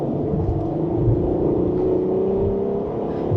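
Ferrari 12Cilindri V12 car accelerating on an open road, a loud, steady engine roar with a rising tone heard from inside the cabin, with no speech over it.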